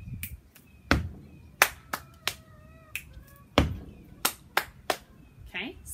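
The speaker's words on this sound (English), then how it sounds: "So this is snap, ta-di, stomp, ta, clap, ta-di, pat" Body percussion pattern of finger snaps, foot stomps, hand claps and pats, sharp separate hits in a steady rhythm, close and fairly loud, with a voice and brief sung tones between the beats.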